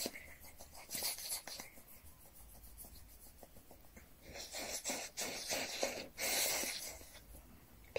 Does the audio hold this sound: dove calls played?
no